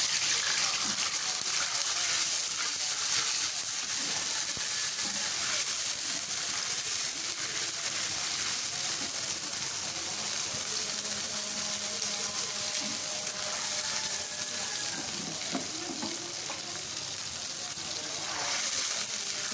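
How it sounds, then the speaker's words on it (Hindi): Water poured into a hot pot of fried spices including cloves for zeera rice, a sustained gushing hiss and sizzle lasting the whole stretch, close and fairly loud, with someone speaking over it. "पानी डाल दें।"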